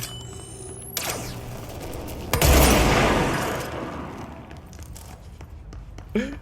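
Heavy gunfire from a gun in the video game Control: a sharp loud blast swells into a dense, crackling burst lasting about a second, then tails off, with a smaller impact near the end.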